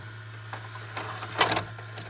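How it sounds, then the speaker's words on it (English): Sylvania DV220SL8 DVD/VCR combo under repair, its laser seeking and reading a disc: faint mechanical whirring and a few soft clicks and ticks over a steady low electrical hum. "And you hear the laser seeking and picked up the disc."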